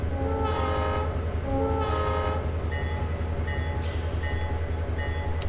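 A simulated diesel locomotive air horn in Trainz 2019 on the Eagle River Railway, sounding two loud, sustained chord blasts over a steady rumble of rolling train wheels, followed by fainter pinging tones.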